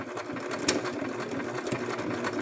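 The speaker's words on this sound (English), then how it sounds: "I am back stitching because this is going to be a part that I have to sew another part onto." A sewing machine back stitching a plush, its needle running in a fast, steady mechanical chatter at close range with a brief thump partway through.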